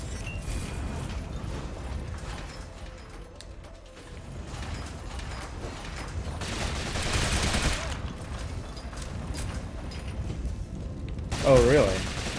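Rapid gunfire bursts from the video game Rogue Legacy 2 rattle through the game's background sounds, with a heavy volley in the middle and another sharp burst near the end.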